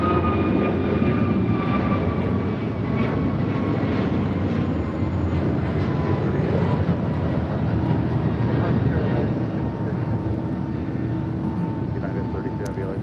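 American Airlines Airbus A321neo jet taking off from LAX bound for Miami, a loud, steady engine roar filling the whole stretch close by, with a voice talking faintly over it.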